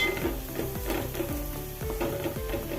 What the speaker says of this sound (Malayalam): സവോള ചെറുതായി അരിഞ്ഞതിട്ട് കൊടുക്കാം അതുപോലെ ഇളക്കി കൊടുക്കാം